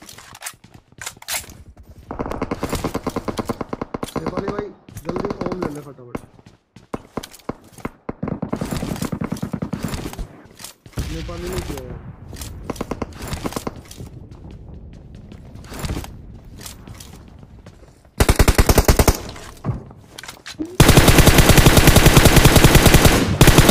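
Loud automatic gunfire from the mobile battle royale game BGMI rattles in rapid bursts, with quieter gaps between volleys and a dense, sustained stretch of shooting near the end.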